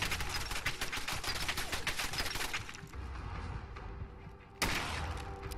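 Rapid bursts of gunfire in the video game Fallout 4, a dense run of close, loud shots for a few seconds, then a pause and one sharp loud shot near the end.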